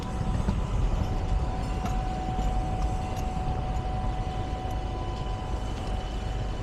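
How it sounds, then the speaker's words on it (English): A steady low rumble of a B Line transit train departing nearby in snow, with a faint tonal whine above it, continuous and fairly loud with no voices. "this is going to be another one of those where the train leaves right as I'm getting over there"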